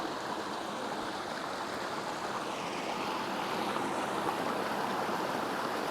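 Outdoors, a fast-flowing stream of water rushes continuously in a steady, broadband hiss, moderately faint, with no voices.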